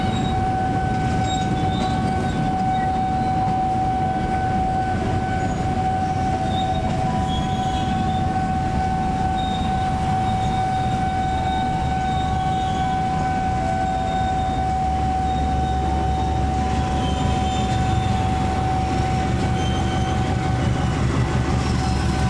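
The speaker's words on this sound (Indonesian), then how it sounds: "kereta api Cikuray memasuki stasiun Pasar Senen." Cikuray passenger train rolling into Pasar Senen station, a steady loud rumble of railcars with a sustained squealing tone from the wheels and faint clatter, continuous throughout.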